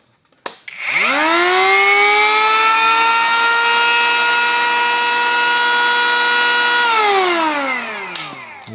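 A Worcraft CEP-S20LiB cordless brushless electric planer motor spins up quickly to a steady high whine, holds it for several seconds, then winds down as it shuts off.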